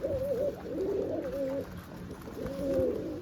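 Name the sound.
pigeons cooing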